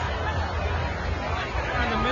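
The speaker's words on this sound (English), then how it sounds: "In the middle of this crowd." Dense crowd hubbub at the WeHo Pride Parade, a steady wash of overlapping chatter and babble with no single voice standing out, close and continuous.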